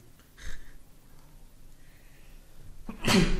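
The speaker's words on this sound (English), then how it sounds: "That was a violent sneeze" A single violent sneeze bursts out loudly right at the end, after a quieter stretch with a short breathy sound early on.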